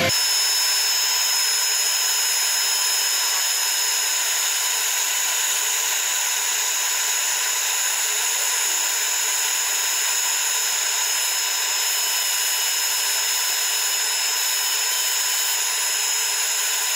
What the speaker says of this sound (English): Now to start the wonderful job of sanding.